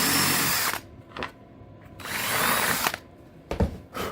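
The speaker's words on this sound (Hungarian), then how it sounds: "és utána 6-os fúró szárral, vagy dörzsárral, vagy bármivel" A power drill with a 6 mm bit boring out a hole in EPP foam board (Styromen Extra 1500), running in several bursts: a long whir, a brief blip, another long run and a short final burst, all close.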